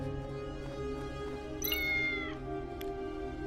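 Cat meows in the video game Tales of the Neon Sea, a cyberpunk pixel puzzle game, two short mid-pitched calls over a steady electronic music bed.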